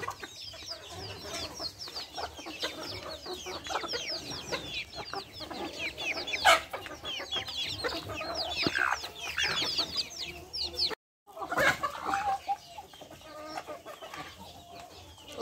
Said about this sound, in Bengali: মুরগি মোরগ।